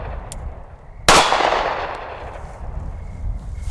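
A single sharp report from a SIG P365 XMACRO compensated pistol firing low-powered ammunition rings out close and loud. A short echoing decay follows over quiet background noise.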